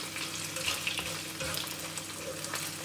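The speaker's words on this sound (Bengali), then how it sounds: "আমি গোশটা দিয়ে দিয়েছি, নাড়াচাড়া করব সুন্দর মতো।" Meat fries in a pan for fried rice while being stirred, giving a steady close sizzle with occasional scrapes and clinks of the spoon, with no voices.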